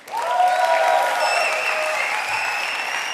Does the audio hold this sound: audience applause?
yes